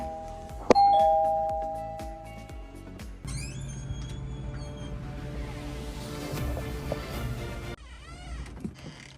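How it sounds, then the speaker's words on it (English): Doorbell chimes once, loud and close near the start, followed by indoor rustling, movement and scattered household noises with no talking. "Who is ringing the bell at this time?"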